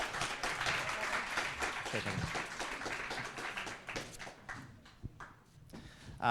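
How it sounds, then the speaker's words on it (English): A students' union crowd at a question-time event applauds the development candidates with brisk, close clapping that thins and fades after a few seconds, leaving scattered claps and faint voices. "can we have a big round of applause for all of the development candidates?"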